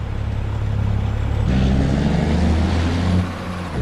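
Engine of a truck in the video game Farming Simulator 25, a loud steady low drone and hum that shifts pitch partway through as if changing speed or gear, then eases off slightly at the end.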